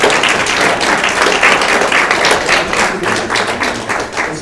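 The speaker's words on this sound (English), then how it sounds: "We got a round of applause just for the families that are here today." At a student-of-the-month presentation, the room bursts into loud, close applause for the families present, with dense clapping sustained evenly across several seconds.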